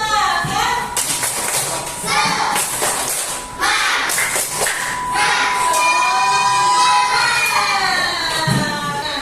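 Schoolchildren in a classroom perform a tepuk semangat spirit clap chant, with loud rhythmic group claps mixed with shouted, sung voices running continuously and energetically throughout.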